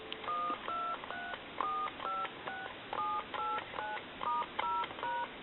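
Touch-tone keys on a telephone being repaired beep one after another, about a dozen short two-tone chirps in a steady rhythm, clear and close.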